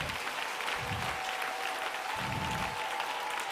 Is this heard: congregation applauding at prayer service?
yes